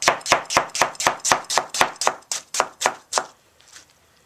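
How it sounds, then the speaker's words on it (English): A knife chops tomatoes on a cutting board while beef dumpling soup is prepared, sounding as about a dozen close, crisp, evenly spaced strikes that stop near the end, with no talk. "I'm chopping tomatoes."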